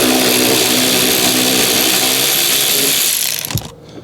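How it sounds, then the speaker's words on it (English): A powered ratchet undoes T25 bolts on a Fiat 500 centre console with a steady, loud mechanical whir for about three and a half seconds, then cuts off abruptly. "You need to undo that"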